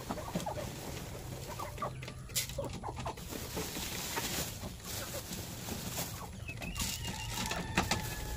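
A hen and her chicks cluck and peep while being fed grain outdoors, with scattered soft calls over a faint, steady background hum.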